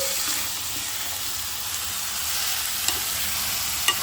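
Chicken pieces sizzle steadily in a hot pan for a chicken curry, a continuous close hiss with a couple of faint scraping stirs and no voices.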